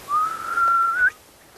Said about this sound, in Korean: 휘파람 소리뿐입니다.